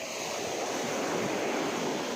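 Sea waves washing against the shore behind Phuket airport, a continuous broadband surf wash with wind noise across the microphone, no voices.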